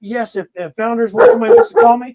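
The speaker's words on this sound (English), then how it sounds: "that's my dog." A dog barks in short bursts, mixed in with and partly masked by someone talking steadily close by.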